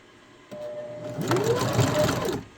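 A sewing machine stitches a skirt hem, starting with a light whir that builds into a fast, steady mechanical chatter for about a second before stopping.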